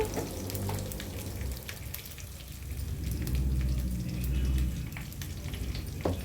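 Sliced okra frying in oil in a pan while salt and chili powder are stirred in, a steady close sizzle and crackle with occasional scraping of the spoon and no voices.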